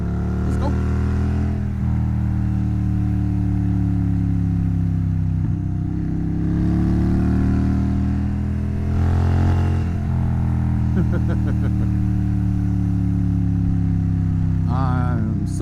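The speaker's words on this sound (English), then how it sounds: "I'm such a fan of this Freedom Performance exhaust as well." A motorcycle with a Freedom Performance aftermarket exhaust revs and rumbles with a deep, throaty note, rising and falling as it climbs a hill, with a voice talking over it.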